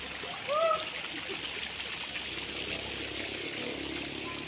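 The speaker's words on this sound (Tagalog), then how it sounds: "Galing sa bukal yung tubig nito." Natural spring water flows steadily at a resort in Liliw, Laguna, giving a soft, continuous rush at moderate distance, with a brief bird call near the start.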